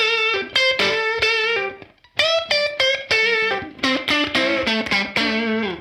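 Electric guitar through a UAFX Woodrow '55 pedal playing a run of plucked, sustained notes with a brief pause midway, each note washed in lush, lingering reverb; loud and close.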